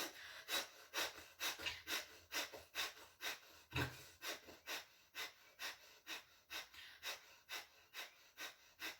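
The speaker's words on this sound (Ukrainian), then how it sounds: "Лівою рукою закриваємо ліву ноздрю, 20 капелап хаті через праву ноздрю." Rapid, forceful kapalabhati breath exhalations through the right nostril during a yoga practice, about twenty rhythmic sharp puffs close to the mic, steady and evenly spaced with no talking.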